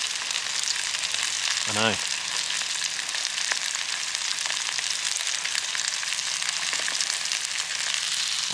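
Burgers fry over an open flame, giving a steady, fairly quiet sizzle that runs throughout, with a brief voice near the start and a few small clicks.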